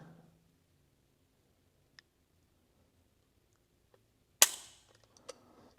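A Desert Eagle pistol's trigger is pulled during a trigger-weight test, giving a sharp, close metallic snap followed by a few faint clicks, with near silence before it apart from a couple of tiny ticks.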